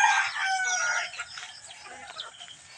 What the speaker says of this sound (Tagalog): Ito yung mga pabo, pato, manok, halo-halo.